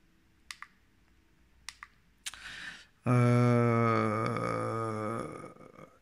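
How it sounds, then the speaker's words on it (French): Clicks on the power button of a SIGELEI Chronus vape mod: several sharp, close clicks, some in quick pairs, then a brief scrape before a loud sustained tonal sound takes over. "Si je clique 3 fois sur le bouton Power, ça me met un cadenas rouge"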